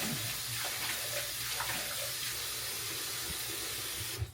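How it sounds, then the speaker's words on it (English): Tap water runs in a steady, close, unbroken hiss while a face is being washed under it, cutting off abruptly at the very end. "I usually just wash my face"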